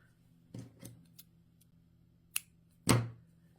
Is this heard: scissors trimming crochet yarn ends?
yes